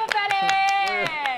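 A studio audience claps in a quick, steady rhythm, each clap a crisp burst, over a sustained tonal musical background.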